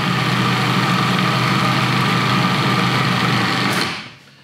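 A food processor blends a hazelnut filling with a steady, loud, close motor whir for about four seconds before switching off and spinning down into quiet.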